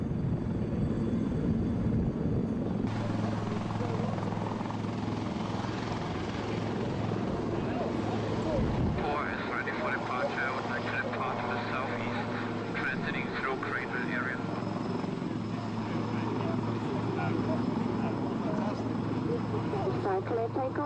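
An aircraft engine drones steadily through a takeoff, loud and continuous with a brief dip partway, while radio chatter carries over it.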